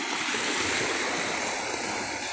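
Sea waves wash onto the shore beside a coastal highway, a steady broad rushing surf with some wind, continuous and fairly close, with no speech.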